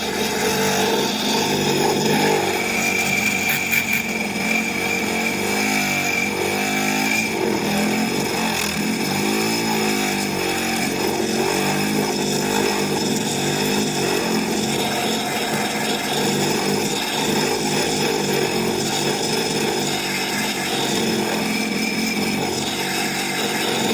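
Rotary tool fitted with a lubricated burr roughing out a silver bezel during a turquoise jewelry repair, a steady dense grinding whine holding close and continuous throughout with no pauses.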